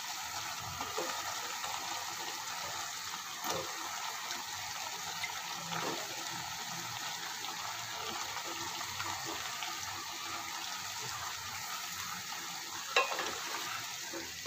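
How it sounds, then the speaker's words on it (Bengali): New potatoes frying in a pan while being stirred, a soft, even background sizzle with faint occasional scrapes and one small clack near the end, fairly quiet and without speech. "এখন আমি আলু দিয়ে কষিয়ে নেব ভালোভাবে।"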